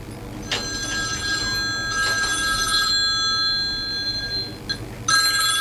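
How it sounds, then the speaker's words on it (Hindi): A telephone rings in repeated electronic bursts, a high warbling tone that stops and starts over a low background hum. "सर का फोन।"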